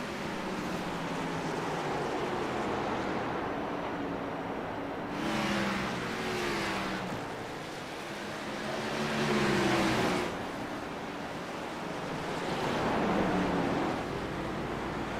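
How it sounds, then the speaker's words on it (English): Race cars roar around the short track at Martinsville, with engine noise swelling and fading in repeated waves as the pack passes, loud and continuous with no talk. "Watch these cars go to battle for 103 more laps."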